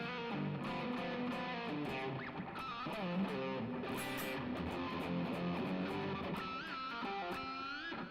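An electric guitar is played with heavy distortion, a continuous run of fast, sustained notes and bends ringing out loud and alone throughout, with no talking.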